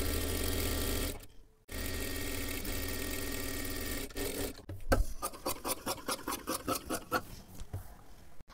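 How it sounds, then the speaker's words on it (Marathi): A sewing machine stitches a blouse with a steady close motor whir that pauses briefly, then breaks into a series of rapid rhythmic stitching pulses, with no talking. "आता इथे खालच्या बाजूला सुद्धा एक शिलाई मारून घ्यायची आहे पूर्ण."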